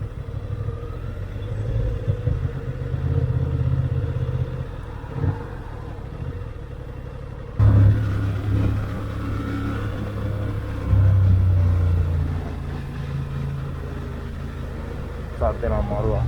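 A new Honda Hornet motorcycle in Italy rumbles steadily at idle, then revs up loudly twice, with people talking over the engine throughout.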